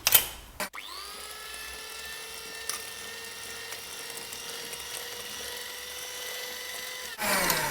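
An electric hand mixer beating cold butter with flour and vanilla essence for a blueberry galette dough: after a brief clatter, a steady high motor whine runs for about six seconds, then cuts off.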